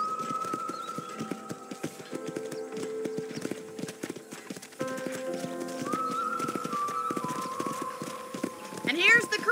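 Horse hooves clip-clop in a quick, steady rhythm alongside game-like tones and music, with a whinny near the end, fairly close, at a ranch corral in Red Dead Redemption.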